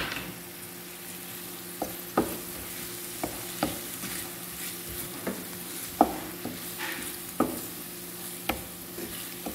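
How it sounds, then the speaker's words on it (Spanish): Ají amarillo and tomato frying in a pan with ají panca for stuffed caiguas, a steady low sizzle broken by repeated sharp stirring scrapes and clicks, close and fairly quiet, no voices. "Esperamos ahí unos minutitos para que se fría."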